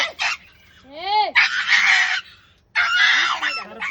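A rooster lets out loud, nasal honking calls in two separate bursts, close by, while people talk around it during a puppy's bath.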